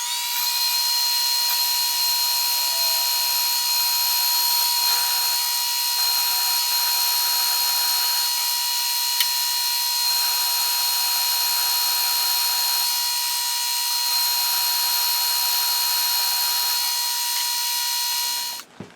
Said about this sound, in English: I just want to drill through for a roll pin.